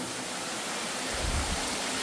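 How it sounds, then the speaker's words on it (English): Steady broadband rush of flowing water running between rollercoaster tracks in a video game, a constant wash that swells slightly in the low end midway through, with no voices. "Cool how the water is staying right here between the tracks."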